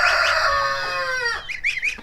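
Young backyard chickens, including a barred rock cockerel, give a drawn-out crow-like call followed by a burst of quick clucks, loud and close with no talk.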